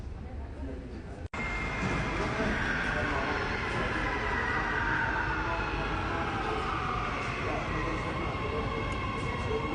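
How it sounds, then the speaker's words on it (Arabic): A Riyadh Metro train pulls into the station at night, a sustained loud rumble and whine of the arriving train filling the platform after a brief quieter moment. "وصل القطار الآن"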